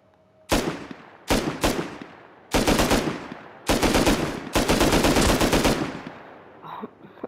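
Automatic gunfire in Call of Duty Warzone, close and loud, in several separate bursts of rapid shots of varying length with short silences between, the longest burst running over a second.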